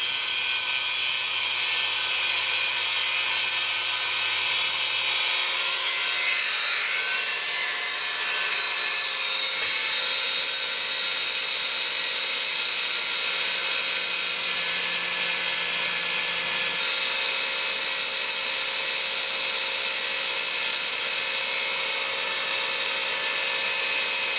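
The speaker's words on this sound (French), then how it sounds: "j'ai muni la mini perceuse d'une petite fraise" A mini drill fitted with a small burr boring holes in a model exhaust pipe, a steady high-pitched whine running continuously and loudly close by.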